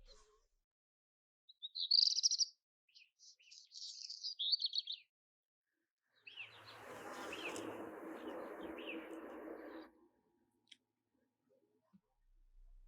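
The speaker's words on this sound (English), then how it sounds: "So this is black redstart, really lovely species that you often find high up there." A black redstart sings a few high, scratchy warbled phrases, then a longer crackling, rattling section, alone against silence with brief pauses between.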